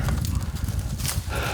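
Pack donkeys resting on a high-altitude Andean mountain trail at 15,000 feet shuffle and stamp their hooves in close, irregular clops over a steady wind-like background.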